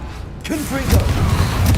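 A fiery Confringo spell blast in Hogwarts Legacy goes off close and loud, a booming burst with crackling rumble that swells and lingers, with a voice briefly heard over it.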